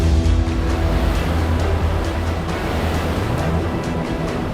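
Ocean waves crash under strong, steady wind during Cyclone Biparjoy, a loud, continuous broadband roar with surging swells and gusty rumble throughout.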